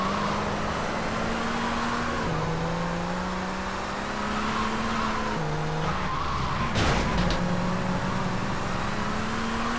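Car driving in GTA Vice City, a steady engine drone with shifting pitch as it accelerates and changes gear, tires squealing and skidding midway, continuous and close with no talk.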